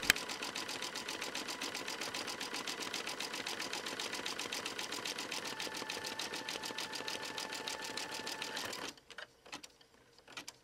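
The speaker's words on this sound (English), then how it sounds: "stitch the final satin stitch outline" Embroidery machine stitching a satin stitch outline on a quilt block design, a fast, even, close rattling stitch that runs steadily and then stops, leaving a few faint clicks.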